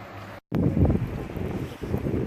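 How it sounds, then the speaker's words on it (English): Strong outdoor wind buffeting a microphone, a loud rumbling roar that surges and dips, broken at the start by a brief cutout, with no talking. "I don't know if you can hear me over the wind"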